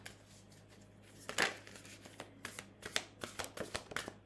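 Tarot cards riffled and shuffled by hand in a quiet room, a series of crisp papery flicks and slaps at close range, irregular bursts over a low steady hum, with no talking.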